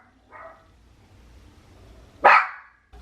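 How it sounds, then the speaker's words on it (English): Dogs bark at a package delivery indoors: a short muffled yelp, a pause, then one sharp loud bark close by. "I just got a package delivered and the dogs went absolutely crazy."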